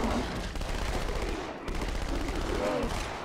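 Rapid gunfire from a weapon in the video game Halo 2 Anniversary, a dense, continuous burst of shots over a loud battle din lasting a few seconds, with a brief dip midway.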